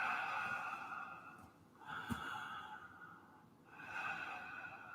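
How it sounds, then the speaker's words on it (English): Slow, deep breathing during a yoga session, with long, airy inhales and exhales rising and falling in an even rhythm, heard close up and faint with no talking. "Breathing."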